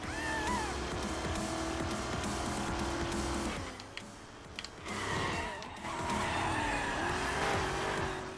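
Tires squeal as a car skids around a corner in the Carmageddon Max Damage racing game. Loud, sustained screeching over a steady engine roar dips briefly near the middle, then returns with no talking.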